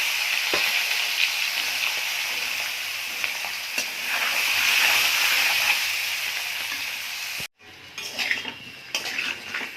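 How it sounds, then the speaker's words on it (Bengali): Potatoes, boiled, peeled and seasoned with turmeric and salt, frying in hot oil in a kadai for aloo dum, giving a steady loud sizzle with occasional clinks of a utensil, then a brief break before the crackle resumes. "আলু লাল লাল করে ভাজা হয়ে গেছে"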